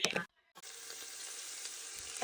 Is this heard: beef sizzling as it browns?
yes